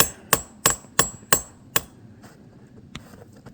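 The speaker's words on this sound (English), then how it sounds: "Grandpa's putting in the first spile of the season." A hammer gently taps a metal sap spile into a maple tree, sunny side, in a drilled 7/16-inch hole: five sharp, evenly spaced taps close by, followed by quieter faint knocks and handling.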